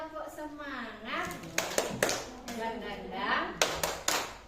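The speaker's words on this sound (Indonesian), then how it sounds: "Tepuk semangat." A group performs the tepuk semangat clapping routine, sharp claps in short bursts mixed with chanted voices, fairly faint.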